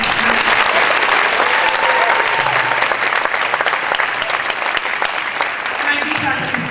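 Audience applause at a charity fundraiser concert, a dense, loud, steady wash of clapping that sustains for several seconds with faint crowd noise underneath.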